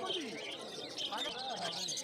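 Budgerigars and cockatiels chirp at the Uluberia pet bird market in a dense, continuous chorus of bright, overlapping tweets and whistles. Faint voices sit underneath.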